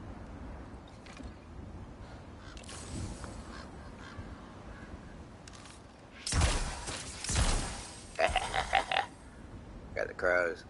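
Crows cawing in God of War Ragnarok, harsh calls breaking out in a loud cluster midway, followed by several shorter caws and flapping-like bursts over low ambient game noise.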